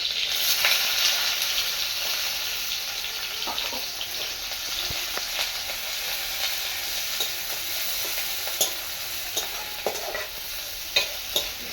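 Onions and green chillies frying in oil in a pan, a steady close sizzle with scattered scraping clicks of a spatula stirring, getting more frequent toward the end; no one speaks.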